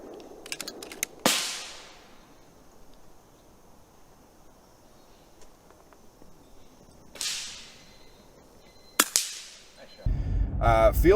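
Three sharp, loud cracks from a PCP air rifle shooting Hunter class field target outdoors, spaced several seconds apart, each with a short decaying tail, followed by a burst of rustling handling noise at the end.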